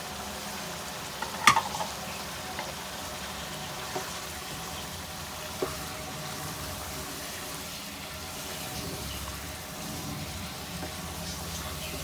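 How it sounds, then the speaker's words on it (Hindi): Masala with onions and tomatoes fries for bhuna gosht, a soft steady sizzle in the pan with an occasional stir or clink of a utensil. "अच्छी तरह मसाले को भून लेते हैं।"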